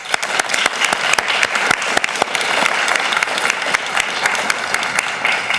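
An audience claps to welcome speakers at a debate, with loud, continuous applause running through the whole clip and sharp individual claps standing out close by.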